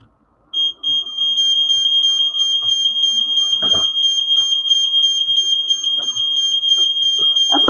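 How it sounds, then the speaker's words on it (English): A smoke alarm set off by incense smoke in a house shrieks loud and steady with a piercing continuous tone, broken by a brief gap near the start, with faint knocks and movement underneath. "it's smoky in the house and it's going to set the alarm off"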